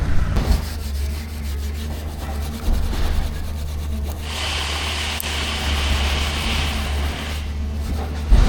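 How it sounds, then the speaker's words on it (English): A pump part is rubbed clean with emery paper or Scotch-Brite in a steady, continuous scrubbing rasp. The rubbing is close and fairly loud, with the strokes changing intensity partway through. "we're just going to get a bit of emery paper or a bit of Scotch Brite there and just give that a clean up"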